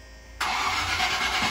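A Range Rover Classic that has been sitting for a while turns over and fires up abruptly, its engine settling into a loud, steady idle close by with no talking.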